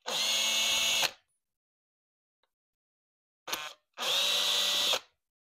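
Power drill backing screws out of a 33 mm alcohol carburetor from a junior dragster: two long, loud, steady whirring bursts close by, separated by a brief blip, with no talking.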